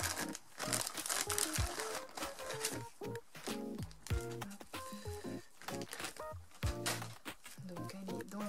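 Plastic packaging around a doll wig crinkles and rustles in quick bursts throughout as it is unwrapped up close, with music playing underneath.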